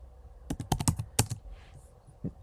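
A git command typed on a computer keyboard: a short run of close, crisp keystrokes in an uneven cluster, then a pause and one last tap.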